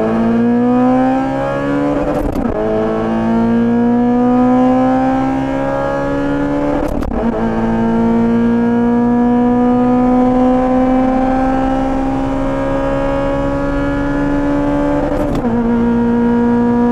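A modified Honda Civic Type R FN2 with a K20 engine revs hard and climbs in pitch through several gears, each shift marked by a brief drop before the loud, steady acceleration resumes.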